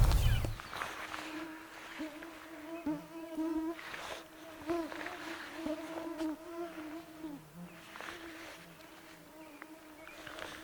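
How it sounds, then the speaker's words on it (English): Mosquitoes whine around in a wilderness camp, a thin sustained buzzing that rises and fades as insects pass close, with rustling and soft handling noises underneath. "So many skeeters down here, I can't keep them out of my coffee."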